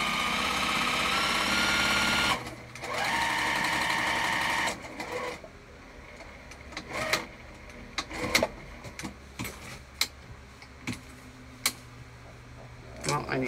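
Home sewing machine stitching a crossbody bag, with a steady whirring run that stops after a couple of seconds, followed by short bursts and clicks of back-stitching at the corners, close up, with some speech over it.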